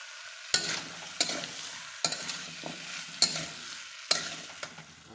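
Potato and tomato cooking in a pan for a fish curry, with a low sizzle broken by five sharp, evenly spaced clinks or scrapes from stirring, close and without talk.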